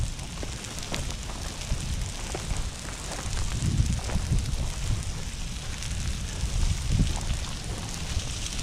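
A prescribed burn crackles and roars steadily through an open pine stand on Piney Grove Preserve, with 8 to 10-foot flames driven by wind, a continuous rushing hiss of fire with gusty wind noise throughout.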